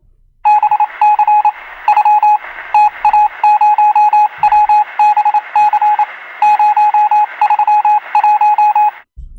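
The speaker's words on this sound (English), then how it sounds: "I just received a Morse code from the German in the World War II." Morse code beeps come over a radio as a loud, steady stream of clipped dots and dashes in a single tone. They run continuously for about nine seconds with no voices.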